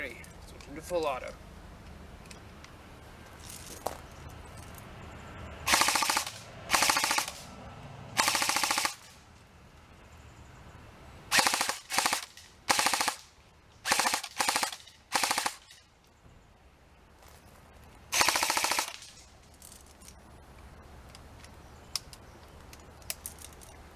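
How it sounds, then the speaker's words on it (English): Several short rattling full-auto bursts from a G&G M14 EBR airsoft rifle on a 7.4 volt LiPo with .25 gram BBs, close and crisp, separated by quiet gaps. "Alrighty, switching to full auto."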